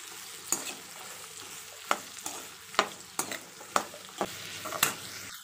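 Small shallots sautéing in hot oil for a mutton curry, a continuous sizzle broken by repeated sharp spatula scrapes and clacks at an irregular rhythm, close and clear.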